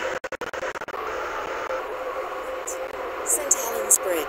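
A Roblox passenger train of five coaches runs steadily in the game, with a continuous rumbling rail drone, a few sharp clacks near the start and brief high tones toward the end.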